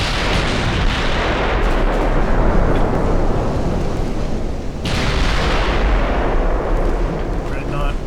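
Naval 10-inch guns boom in a dreadnought-era battleship battle in Ultimate Admiral Dreadnoughts, a dense, loud roar of heavy cannon fire and rolling blasts with a sharp report near the middle, a voice talking over it.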